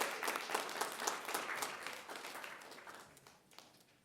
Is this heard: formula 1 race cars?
no